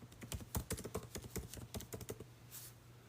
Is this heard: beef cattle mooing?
no